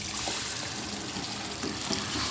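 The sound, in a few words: cup of water poured into cooking peas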